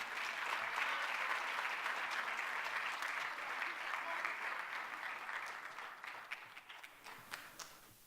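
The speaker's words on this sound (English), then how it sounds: "Give a round of applause to the brother" A crowd at a Black History Month community youth forum applauds a keynote performer, with dense, steady clapping that thins out near the end into scattered individual claps.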